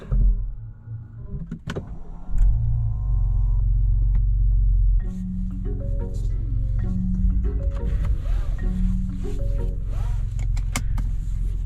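A 2022 Lincoln Navigator Reserve fires up after a whirring motorized sound and a click, its engine catching with a brief surge and then settling into a steady low idle rumble close by, with no talking.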